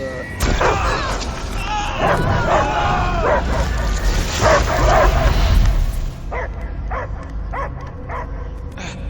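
A dog in the Guardians of the Galaxy game gives repeated yips, whimpers and barks amid a busy game soundscape. Voices and effects run underneath, then a string of short barks stands alone near the end.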